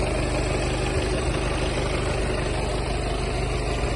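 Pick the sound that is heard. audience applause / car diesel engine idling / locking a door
car diesel engine idling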